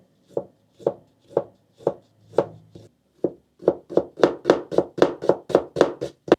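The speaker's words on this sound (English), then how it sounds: "The onion needs to get chopped nice and fine." A knife finely chops an onion on a cutting board for risotto: five or six slow, evenly spaced thuds, a short pause, then a quicker, louder run of close, crisp chops.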